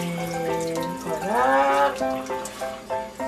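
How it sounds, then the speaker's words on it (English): Rice being washed under running water in a kitchen sink, a continuous tap stream with swishing and pouring splashes as the rinse water is dumped out, near and moderately loud. "So then you dump it out like that and then you wash it again."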